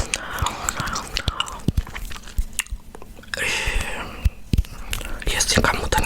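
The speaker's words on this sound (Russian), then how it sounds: "А у меня звуки чавканья." Chewing gum is worked close to the mic in soft, wet smacks and clicks, irregular and intimate, interleaved with quiet whispering.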